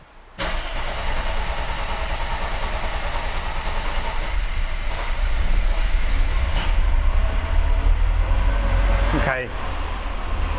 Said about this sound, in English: that required a little bit of cranking, as I'm sure you just heard